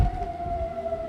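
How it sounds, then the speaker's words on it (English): Civil defense tornado sirens wail steadily outdoors during a severe storm, a sustained rising-and-holding tone over rumbling gusts of wind throughout. "You can hear the sirens going off"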